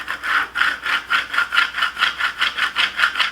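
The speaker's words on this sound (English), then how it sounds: "So now I'm gonna press down with my hands and then one more time with the scraper tool" A scraper tool rubs back and forth over Cricut smart vinyl transfer tape on a wooden round, making a close, rhythmic scratchy swish with about a dozen even strokes and no talking.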